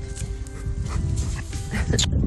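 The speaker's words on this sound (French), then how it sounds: "Il a quel âge le chien là?" A young two-year-old truffle-hunting dog in the Uzès truffle grounds whimpers and gives short yips up close, with soft rustling and handling noises around it.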